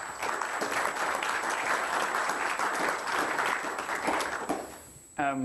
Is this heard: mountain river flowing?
no